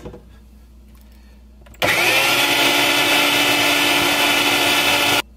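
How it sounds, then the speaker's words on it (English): Food processor slicing onions: after a quiet start, the motor kicks on abruptly and runs as a loud, steady whirring grind for several seconds, then cuts off sharply. "if you're using a food processor like I am"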